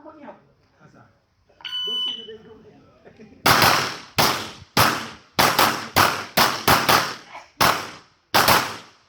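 A shot timer's electronic beep sounds, followed by a rapid string of about nine loud handgun shots fired at targets on an outdoor marksmanship range, the sharp cracks coming in quick, slightly uneven pairs after faint talk at the start.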